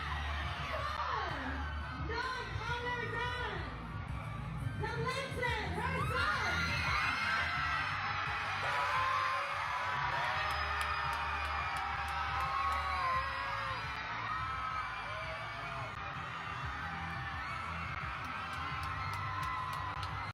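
A dense crowd screams and cheers loudly and continuously at an impersonator's performance in a mall, with shrill youthful whoops rising above the roar throughout.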